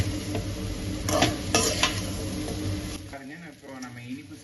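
Spatula stirring white sugar in a hot pan for a sweet Coimbatore treat, with scraping and a light sizzle running steadily and fairly close, broken by a few louder scrapes, under a speaking voice.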